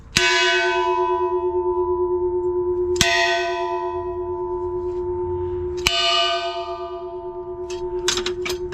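A church bell tolls three times at roughly three-second intervals. Each strike is loud and close, with a long sustained ring, followed by some brief metallic clatter at the end.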